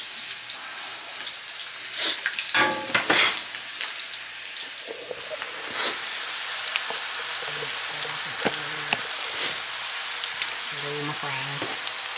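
French fries frying in hot oil in a home kitchen, a steady close crackling sizzle that runs throughout, broken by a few brief louder clatters and pops.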